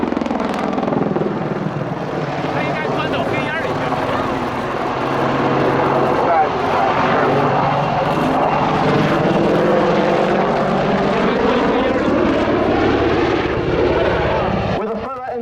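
A military aircraft performing a 270-degree wingover at the Yeovilton Air Day 2017 airshow, its loud, sustained engine and rotor roar sweeping steadily overhead with fluctuating pitch, while a commentator's voice talks over it throughout.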